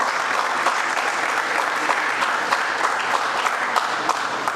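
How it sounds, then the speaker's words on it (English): Audience at a governor's public announcement on MTA mobile ticketing gives a round of applause: sustained, fairly loud clapping with a few sharper individual claps standing out across nearly five seconds. "So let's give him a round of"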